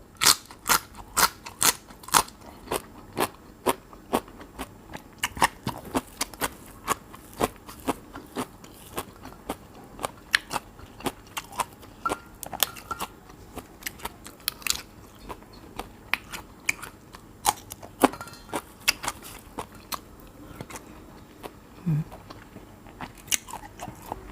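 Crisp, repeated crunching and chewing of fresh raw vegetables eaten with fermented shrimp (kung chom), close to the mic, in a steady run of sharp bites over about twenty-four seconds with no talking.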